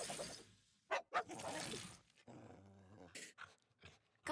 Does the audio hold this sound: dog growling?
yes